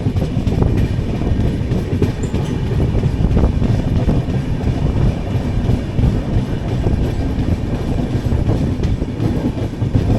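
The Kochuveli–Mumbai LTT Superfast Express rumbles into Feroke station, a loud, continuous roar of wheels and carriages with faint clacking and wind noise throughout.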